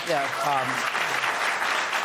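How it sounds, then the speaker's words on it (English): A studio audience breaks into applause in a room, a dense steady wash of clapping that starts under a brief spoken voice and carries on alone. "Don't clap."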